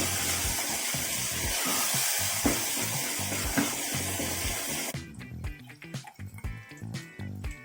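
Chicken curry masala with coriander powder and chili powder stirred in a hot pan: a steady, close, loud sizzle and hiss for about five seconds, then quieter, uneven scraping and crackle as it is mixed.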